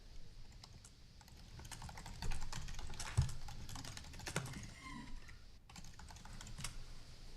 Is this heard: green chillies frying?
no